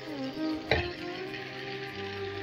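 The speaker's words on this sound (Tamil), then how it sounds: "நல்லா ரோஸ்ட் ஆகுற வரைக்கும் ஃப்ரை பண்ணிக்கலாம்" Chicken pieces for tandoori chicken frying in oil in a pan, a steady soft sizzle throughout with one brief louder clatter near the start as the pieces shift.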